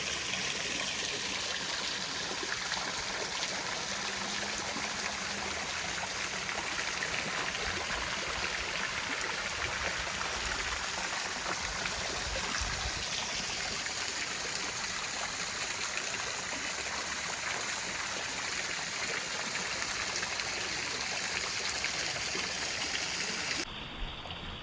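A stream flows below a small village temple in Jib, Udhampur, Jammu and Kashmir. A steady, even rush of water continues unbroken throughout with no voices.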